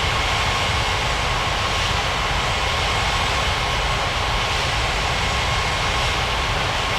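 An airliner taxis toward the runway in a 3D flight game, its engines giving a steady, continuous whine and rumble throughout with no talk.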